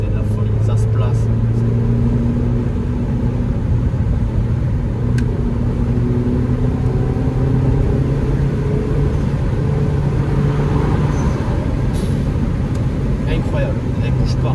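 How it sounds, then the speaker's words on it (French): Renault Megane 4 RS with its engine revving around 2000 to 3000 rpm, giving a loud, steady rumble close by with crackling exhaust pops; someone talks over it throughout. "Les petits pétarades, en fait, ils sont entre 2000 et 3000 tours."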